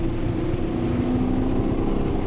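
Porsche 928S engine braking while rolling down a steep 8 to 10 percent hill, a steady, droning low engine hum with a faint rising whine, heard from inside the car with no talking.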